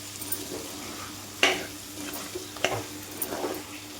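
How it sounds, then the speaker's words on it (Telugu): Chicken with masala stir-fried on a high flame: a quiet, continuous sizzle broken by a few sharp scrapes and clinks of a spatula against the pan, with no talk. "యాడ్ చేసుకున్న తర్వాత ఒకసారి కలుపుకోవాలి. హై ఫ్లేమ్లోనే 15 నిమిషాలు ఫ్రై చేసుకోవాలండి."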